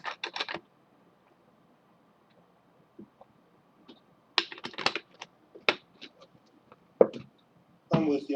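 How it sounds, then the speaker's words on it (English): Typing on a computer keyboard during a math review session, with scattered bursts of quick clicking keystrokes separated by quiet pauses, close and fairly soft, with no talk. "I'm typing it in now."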